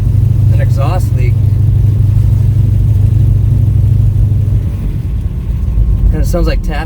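A 1969 Pontiac GTO with a rebuilt motor and an exhaust leak idles or cruises with a loud, steady low rumble close by, while people talk over it at the start and end.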